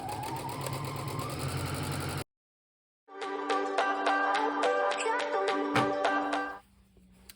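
A sewing machine finishing the raw edge of a pant leg makes a fast, even mechanical chatter. It starts after a short pause, runs steadily for about three and a half seconds, then stops.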